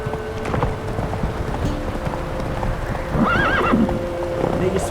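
Roach, Geralt's horse in The Witcher 3: Wild Hunt, clip-clops along at a gallop and lets out a clear whinny partway through, with light rain in the background and a voice speaking.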